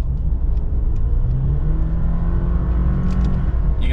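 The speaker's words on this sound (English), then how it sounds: "You can hear the turbo spooling basically everywhere if you give it just a little bit of gas," A 2023 Chevrolet Silverado Custom with the 2.7-liter turbo engine accelerating under light throttle, a steady close engine drone and road rumble with a faint turbo whir rising over it, no talking.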